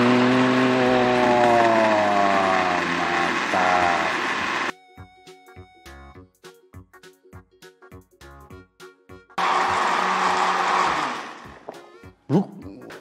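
Electric kitchen blender mixing eggs with liquid vanilla, a loud steady motor whir that runs, stops for a stretch of intermittent clicks and pulses, then roars again before cutting off; close by, no talk.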